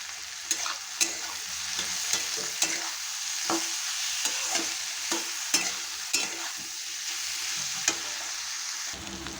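Bitter gourd and pointed gourd frying with turmeric for a puti fish chorchori, a constant bright sizzle broken by regular spatula scrapes and taps against the pan, close up, with no speech.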